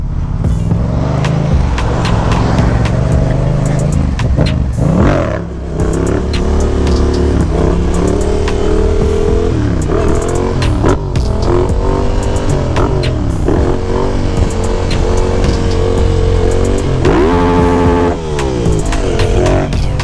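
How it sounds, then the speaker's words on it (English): A Yamaha FZ motorcycle engine revs loud and near, its pitch rising and falling through repeated throttle blips over about twenty seconds, with no talk. "if Yamaha made the Bolt engine anything like this FZ, you got nothing to worry about"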